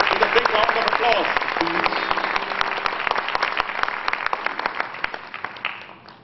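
Audience at an International Yoga event in Ujjain applauds someone speaker onto the stage, dense sustained clapping that gradually thins and fades out over about six seconds.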